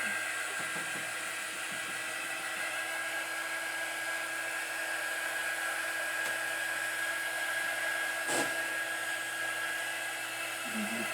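A hair dryer blows steadily and fairly loud over a painted berry wagon craft, a constant whirring drone with a brief bump partway through and no talking.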